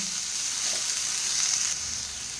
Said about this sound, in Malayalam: കുറച്ച് വെളിച്ചെണ്ണ വെച്ച് കൊടുത്തിട്ടുണ്ട്. നമുക്ക് സവാള ഇട്ട് കൊടുക്കാം.